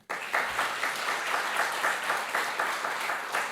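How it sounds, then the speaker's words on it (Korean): A church congregation claps during a Sunday worship service, a sustained round of applause with a rhythmic pulse, filling the room at moderate volume. "박수로 해주세요."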